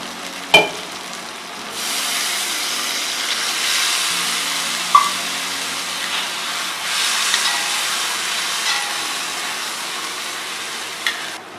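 Steady bubbling and hiss of pepper egg gravy simmering in a pan after water is added, with a couple of sharp clinks near the start and middle, no voices.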